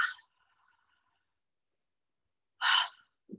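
A person yawns during a relaxed Do-in breathing and jaw-release session: a short breathy burst at the start, then a louder, noisy breath a couple of seconds later, with a faint low sound at the end.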